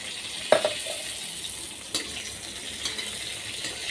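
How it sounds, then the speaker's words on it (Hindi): Fried cauliflower is tipped into a pan of whole spices and stirred, giving a few soft clattering thuds and light scraping over a low, even sizzle. "ये गोभी देखिए जो हमने फ्राई करके रखी थी वो भी हम इसमें डाल दे रहे हैं"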